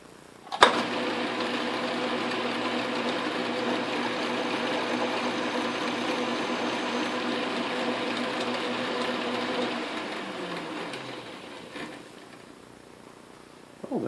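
An Atlas/Craftsman metal lathe runs with a steady whirring hum and faint tool chatter while cutting a chamfer, starting with a click, holding even for about ten seconds, then winding down before a final clunk.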